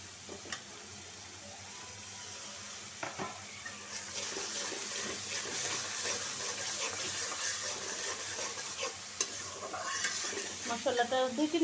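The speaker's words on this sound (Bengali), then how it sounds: "মশলাটা কষায় নিই 2-3 মিনিট" Turmeric, coriander powder, chilli powder and salt with a splash of water sauté in a pan for a rohu or katla fish curry with pointed gourd, a steady close sizzle with scraping stirs throughout.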